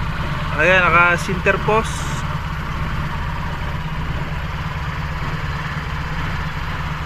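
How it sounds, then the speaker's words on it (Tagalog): An owner-type jeep engine idles with a steady, low rumble throughout, while someone speaks briefly near the start. "Paanda rin natin para makita yung makina."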